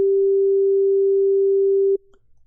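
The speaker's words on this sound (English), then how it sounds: "that is just a sine wave" A steady pure sine test tone holds one even pitch for about two seconds, loud and unwavering, then cuts off into near silence.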